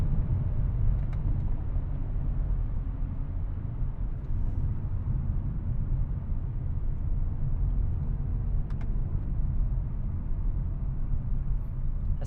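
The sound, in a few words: Hyundai Elantra N 8-speed transmission shifting while driving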